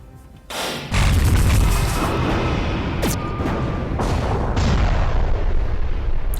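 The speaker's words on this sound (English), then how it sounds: "Nice little explosion animation" Spaceship explosion in the video game Halcyon 6: a sudden heavy boom bursts in after a short quiet lead-in, then rumbles on loud and sustained with crackling debris-like pops and a second swell near the end.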